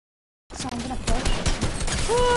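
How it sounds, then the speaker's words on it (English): Rapid bursts of video game gunfire crackle after a brief silence, dense and continuous, with players' voices talking underneath. "Hey, gunshots."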